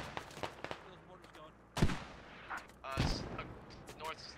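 Mortar rounds in a military video game thump in two heavy, separate blasts, each followed by a short rumble, among scattered distant gunshots and faint background noise.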